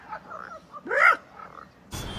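A frog croaks, with low warbling calls and one louder, rising and falling croak in the middle, close and clear, followed by a brief burst of noise at the end.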